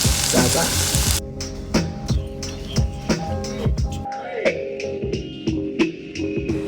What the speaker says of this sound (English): I think it's time to fry up our polenta frittatas